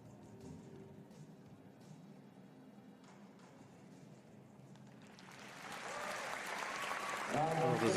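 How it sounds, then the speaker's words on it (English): After a dressage Grand Prix test at an indoor World Cup show, quiet arena ambience and murmuring give way to rising crowd applause that swells loudly over the final seconds. "Well deserving of the applause,"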